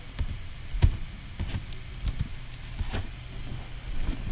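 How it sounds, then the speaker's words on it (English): Uneven keystrokes clatter on a worn, falling-apart computer keyboard, close and dry, coming in short bursts of taps with brief pauses between them and no speech over them. "My keyboard is disintegrating here."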